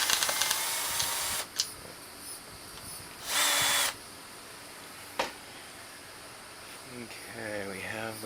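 Bolts being removed from a Nissan 5hp outboard motor with a power drill, giving a few short whirring bursts at close range separated by pauses, with clicks and handling noise and a voice speaking near the end.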